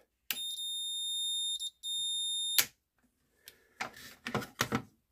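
Multimeter continuity beep while testing the switch of a Rikon 70-220VSR lathe that won't shut off: a steady, piercing electronic tone lasting about two seconds with one brief break, ending in a click, then soft handling and rustling noises.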